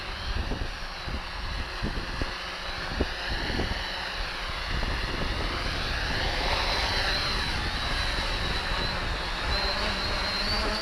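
A 650-class quadcopter drone hovers in Loiter mode at half throttle outdoors in wind, giving a steady, loud whine of spinning propellers with gusty wind buffeting the microphone, no voices.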